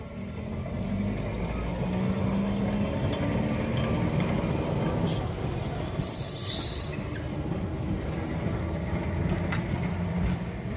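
A vintage tram arrives at the Crich Tramway Museum, a steady close rumble of wheels on rails with a brief high wheel squeal partway through, and no talk.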